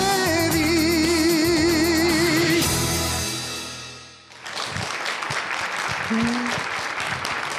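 Audience applause at a televised Romanian family show, following the sustained final notes of a song: dense, loud clapping that swells in and continues steadily to the end.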